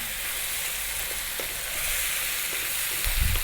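Ground turmeric, coriander and cumin sizzle steadily in a hot pan for vegetable curry, a loud continuous frying hiss with a faint scrape of stirring near the end.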